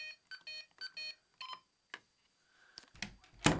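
A quick series of electronic tones from an Accenta G3 Mini alarm keypad as a code is entered, several in fast succession, then a pause followed by clicks and rustling handling noises close by.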